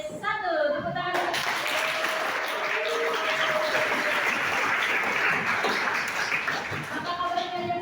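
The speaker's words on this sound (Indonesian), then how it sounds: "Tepuk tangan." A class of high school students breaks into sustained applause, dense and steady clapping filling several seconds, with a brief voice at the start and end.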